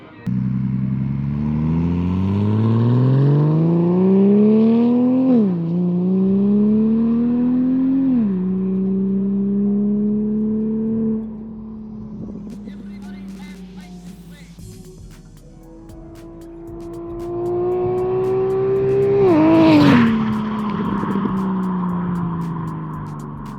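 V8 engine in a ratty 1949 Ford body swapped onto a BMW, revving up through rising gears, easing off, then climbing again to a sharp rev peak before settling, loud and close with no talk.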